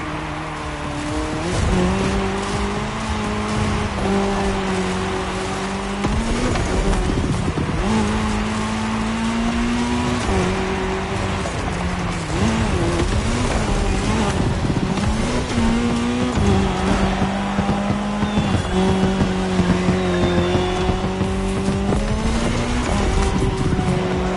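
Race cars in The Crew Motorfest video game roar along a tarmac stretch of a cross-terrain race, engines holding steady tones then dropping and climbing through gear changes, loud and continuous throughout with occasional tire squeal.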